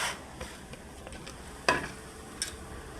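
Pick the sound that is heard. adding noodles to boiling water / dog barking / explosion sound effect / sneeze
adding noodles to boiling water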